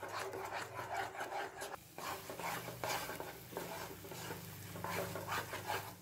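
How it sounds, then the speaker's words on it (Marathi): A spoon scrapes and stirs carrot halwa khoa in a pan over low heat, in steady rhythmic rubbing strokes, close and fairly quiet, with no talking. "हे सर्व पटपट असं हलवायचं आहे।"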